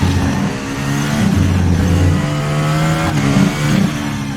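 High-revving FR X-22 race car engine in the racing game RaceRoom, with gear changes, the pitch climbing and dropping repeatedly, loud and close.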